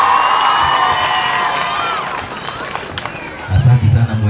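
Audience at a Murang'a East Sub-County prize-giving ceremony cheering with high, drawn-out whoops, then breaking into louder, denser clapping near the end.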